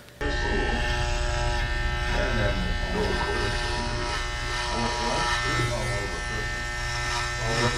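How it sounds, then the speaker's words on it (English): A budget electric hair clipper priced around $120 runs through thick, heavy hair, its motor buzzing steadily with a strained hum from start to finish, while voices murmur faintly underneath. "this motor can bog down pretty easy when it's cutting through heavy bulk"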